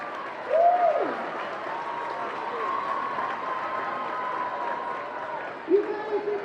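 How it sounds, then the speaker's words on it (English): Crowd applause at a high school football game between Central Catholic and Jesuit, a steady wash of clapping and crowd noise lasting several seconds, with brief voices and a whistle-like tone near the start and end. "Big round of applause for Jesuit and Crusaders Catholic."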